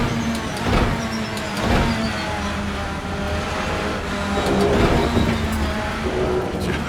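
A touring race car engine in the Assetto Corsa racing game drones steadily, with rising and falling revs, gear shifts and a downshift, continuous and fairly loud with no talk.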